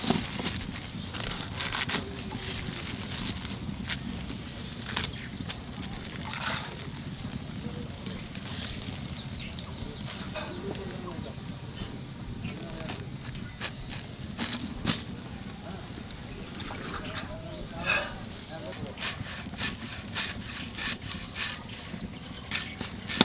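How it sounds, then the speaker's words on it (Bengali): Fresh radish greens are chopped with a knife in a village kitchen, giving a series of irregular crisp cutting strikes and leafy rustles that sit close over a soft background. "তারপরে মূলো শাক কুচোবানি।"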